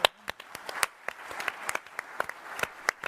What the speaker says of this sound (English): So everybody give a clap for Walt Mossberg.